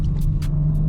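BMW G82 M4 xDrive under throttle in second gear on a wet road, heard as a steady loud low engine drone and rumble from inside the car, with a few faint hissy ticks.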